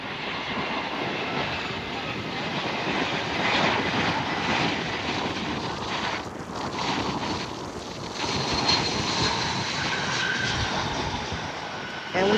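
A JetBlue airliner lands on runway 8, its engines a loud, steady broadband roar with wind buffeting the microphone throughout.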